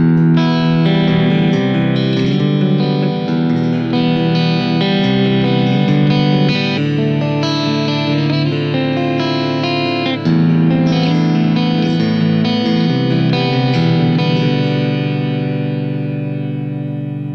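An electric guitar played through the effects of a Blackstar ID:Core 10 V4 practice amp rings out steadily and loudly for the whole stretch, with washed, modulated sustained chords and lines fading slightly at the end, with no talking.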